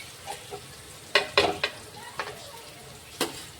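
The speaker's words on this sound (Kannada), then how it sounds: "ಇದು ಒಂದು ಸ್ವಲ್ಪ ಈರುಳ್ಳಿ ನಾನು ಫ್ರೈ ಮಾಡ್ಕೊಂಡು ತೊಗೋತೀನಿ ರೀ" Onion frying in a pan for a beetroot palya, with coconut and tomato being added, gives a low steady sizzle under several sharp scraping stirs and clacks of a spoon against the pan, moderately close.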